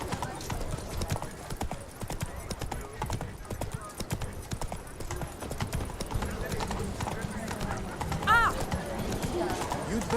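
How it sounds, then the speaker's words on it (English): Horse hooves trot in a steady clip-clop rhythm in the video game Witcher 3, with a brief neigh near the end, all under ongoing spoken voices. "Whoa there, Roach."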